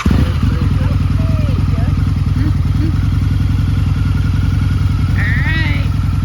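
A Harley-Davidson motorcycle engine starts up and settles into a loud, steady, throbbing idle with a dense low rumble right at the mic, running the whole time under faint background chatter.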